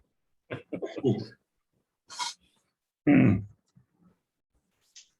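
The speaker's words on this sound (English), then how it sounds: "I have to blow my nose." Close, forceful nose blowing in a few separate bursts: a couple of snorts, a sharp hissing blast, then one loud honking blow, with short pauses between.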